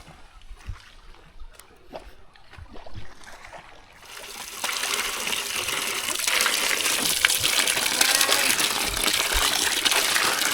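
Scattered small splashes and drips during washing in water outdoors, giving way after a few seconds to a steady, louder pouring gush of water that continues to the end.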